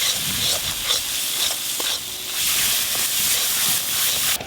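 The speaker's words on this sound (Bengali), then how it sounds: "লবণ, হলুদ গুঁড়ো, লঙ্কা গুঁড়ো, মশলাগুলো খুব ভালো করে কষে নিতে হবে" Spices with salt, turmeric and chilli powder frying in oil, giving a loud, continuous sizzle and hiss with occasional stirring scrapes throughout.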